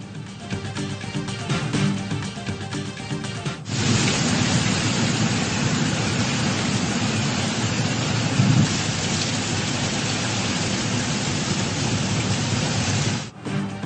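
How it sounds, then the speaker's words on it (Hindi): Torrential rain pours down in Peshawar during a storm with strong winds, a dense, loud, steady roar of downpour lasting throughout, with no voices. "पेशावर के मुख्तलिफ इलाकों में मूसलाधार बारिश"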